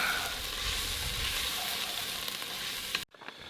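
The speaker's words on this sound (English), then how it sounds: "We're gonna stir this up and then add the meat." Crushed black pepper and seasoning sizzle steadily in a hot pan while being stirred, a loud continuous frying hiss that cuts off abruptly near the end, leaving a quieter tail.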